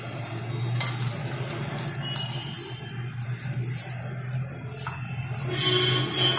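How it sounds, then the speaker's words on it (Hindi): Crushed black pepper being stirred through vegetables in a pan for chilli veg manchurian, a steady scraping of utensil against metal with occasional clinks over a low continuous sizzle. "चलिए इसको अब हम अच्छी तरह से थोड़ा सा मिला लेते हैं सारे सब्जियों को"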